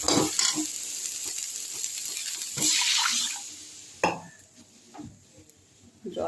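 Water is added to a frying spice paste for fish curry, giving bursts of loud hissing sizzle that rise and fade, with stirring and clinks between the surges.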